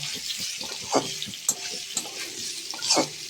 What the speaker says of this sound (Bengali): দিয়ে দেব ডাঁটা, দিয়ে বেশ ভালো করে নাড়াচাড়া করে একটু কষিয়ে নেব।